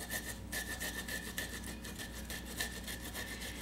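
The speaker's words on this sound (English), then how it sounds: "take my ginger, it's got the skin on and everything, and just grate it on my grater" Unpeeled ginger root scraped across a solid grater in steady, quick rasping strokes, close and fairly quiet, with no voices.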